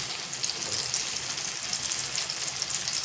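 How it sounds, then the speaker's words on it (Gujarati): Tomato, onion and potato bhajiya deep-frying together in a pan of hot oil, giving a steady, dense sizzling hiss that holds level throughout with no voices. "એક ઘાણવામાં આપણે છે ને 3 જાતના ભજીયા તળી નાખવાના."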